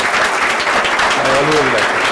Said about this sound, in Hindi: एक बार जोर से ताली बजा करके सीटियां और बजा लो